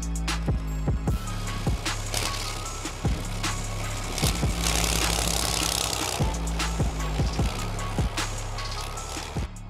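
A 16-liter engine in a military ATV weighing over eight tons, running in a deep steady rumble throughout, with scattered knocks and clatters over the drone, nearby and loud.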